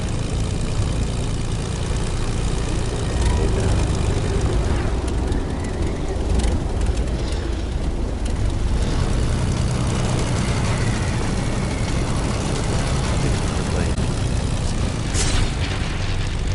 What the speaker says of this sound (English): Eventually, as you can see, the plane will fall.